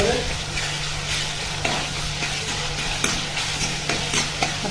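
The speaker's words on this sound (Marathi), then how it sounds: "आता यात एक चमचा आलं लसूण पेस्ट ॲड करत आहोत" A spoonful of ginger-garlic paste sizzling in hot oil in a pan for Kolhapuri misal while being stirred: constant loud close frying hiss with scraping stir strokes throughout.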